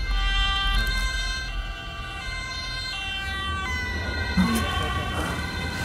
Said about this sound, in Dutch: Er komt een ambulance aan.